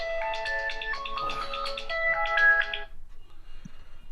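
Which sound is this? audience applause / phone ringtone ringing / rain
phone ringtone ringing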